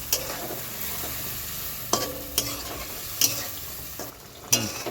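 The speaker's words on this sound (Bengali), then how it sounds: "নেড়ে চেড়ে মিশিয়ে দিচ্ছি।" A spoon stirs ridge gourd and poppy seed paste frying in oil in a pan, with a steady sizzle broken by several sharp scraping strokes against the pan, close and fairly loud, no voices.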